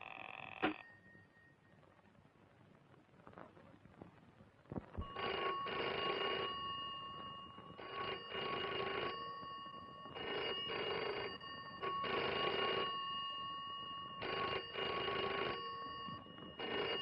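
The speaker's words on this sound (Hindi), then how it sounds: "फोन कब से बज रहा था?" A telephone rings repeatedly in steady bursts with short pauses between, a bright electronic trill continuing over a low background hum.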